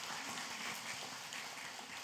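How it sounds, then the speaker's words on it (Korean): Faint, distant applause from a church congregation at an ordination service, honoring a children's accompaniment team, a steady soft patter of clapping heard alone for a couple of seconds. "축복의 박수를 한번 크게 보내주시겠습니다"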